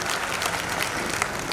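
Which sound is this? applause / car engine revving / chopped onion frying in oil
applause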